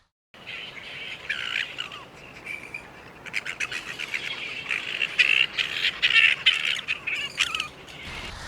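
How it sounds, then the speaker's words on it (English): A grey-headed flying fox gives a run of harsh, scratchy squawks and shrill chittering calls, close and continuous, growing busier and more insistent toward the end. "here is a grey-headed flying fox"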